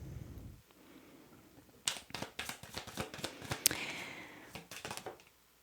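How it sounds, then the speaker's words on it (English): Tarot cards are reshuffled by hand: after a quiet start, a close run of crisp riffling snaps and slaps comes in rapid uneven bursts, then stops. "I'm also going to reshuffle these cards"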